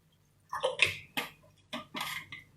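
Water for mushroom risotto is poured into a pot in a few short splashing bursts, close and fairly quiet, with brief pauses between pours.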